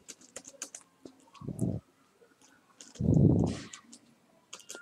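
Typing on a computer keyboard: quiet, close clusters of quick key clicks, broken by a couple of brief, soft, low thumps.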